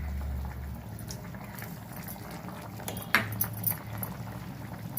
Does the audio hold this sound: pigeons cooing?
no